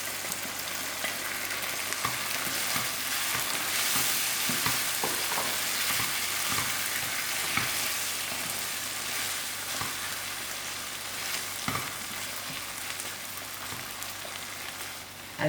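Canned beans and tomatoes sizzle and bubble in a frying pan, a soft continuous fry with scattered light pops and scrapes, and no one speaking.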